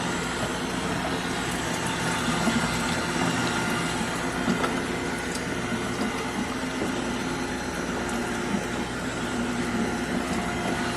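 A Nama J2 juicer presses cashew milk, its motor giving a steady, close mechanical whir and grinding hum that continues without pause.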